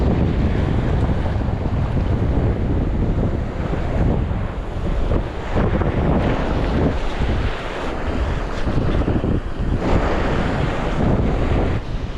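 Strong, steady wind buffets the microphone with a constant roar, mixed with the wash of waves and open water near a small island, no one speaking.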